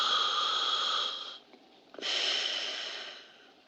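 Heavy breathing inside a diving suit in the film The Graduate, one long hissing exhale, a short pause, a sharp intake and another drawn-out breath, close and airy with nothing else heard.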